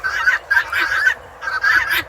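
Guinea fowl calling on a farm in December, loud harsh rhythmic cries in about four bursts close by, with no talk over them.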